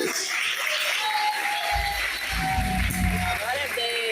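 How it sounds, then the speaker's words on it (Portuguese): Church congregation applauding at the close of a children's Bible school session, a steady broad wash of clapping throughout with voices and some low musical tones joining partway. "Uma salva de palmas para Jesus."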